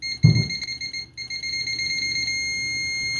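Continuity beep from a BTMETER BT-770S multimeter with its standard default probes, a loud steady high-pitched tone sounding right after a brief thump of probe contact and holding to the end.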